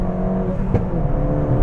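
A stage 2 tuned Fiesta ST accelerating hard along a country lane, its engine note droning loud and close throughout with a brief sharp burst midway, heard from inside the car.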